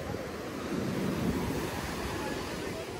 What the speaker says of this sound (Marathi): आणि आता मी तुम्हाला लाटा दाखवत आहो